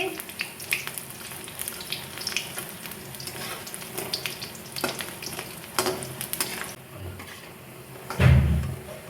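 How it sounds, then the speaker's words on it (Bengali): Fritters fry in mustard oil in a wok with a steady hiss and sizzle, broken by scraping and clinking as they are turned, ending in a louder low thump. "আমি উল্টে পাল্টে বড়াগুলো লাল লাল করে ভেজে নিচ্ছি"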